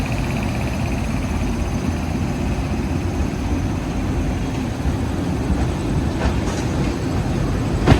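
LHB-coached 16347 Trivandrum–Mangaluru Express running along the line, a steady low rumble of wheels and coaches heard close by, continuous throughout with faint higher rattles near the end and no talk.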